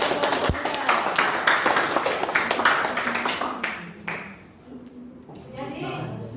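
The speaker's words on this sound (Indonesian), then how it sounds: "Tepuk tangan untuk Tuan Pemuda." Classroom clapping for a student presenter, a few seconds of dense hand claps from pupils that thin out and fade, followed by quieter room noise and talk.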